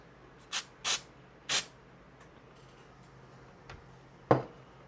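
A spray bottle spritzes during Necron Ghost Ark model building, giving three short sharp hissing bursts in quick succession, then a faint tick and a final brief clack, close and alone with no talking.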